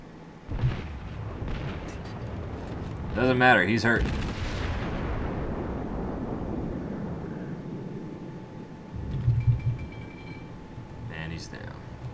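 The heavy cruiser Aoba fires its guns in a World of Warships naval battle: a deep boom with a long rumbling decay, then a second lighter salvo later, under a voice talking.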